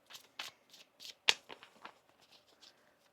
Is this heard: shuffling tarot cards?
yes